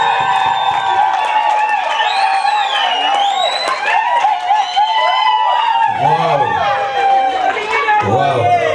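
Wedding guests cheer, whoop and applaud loudly at a celebration, a sustained crowd roar with clapping and shouts mixed with music and singing voices throughout.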